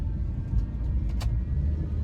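A Mitsubishi Lancer 1.6 automatic SR shifted into DS mode, its engine note rising to a higher idle as a steady, moderately quiet rumble heard from inside the car.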